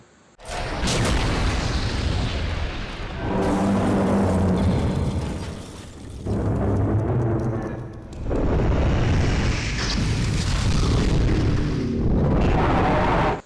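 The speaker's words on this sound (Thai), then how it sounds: "หลังจากที่มันยิงปืนครับ มันก็ได้ปล่อยคลื่นเสียงนะครับที่ โหดเหี้ยมของมันออกมาครับ" An animated Titan Speakerman fires its gun and unleashes a sonic blast: long, loud, rumbling booms that roll on almost continuously, swelling and dipping in waves with no talking.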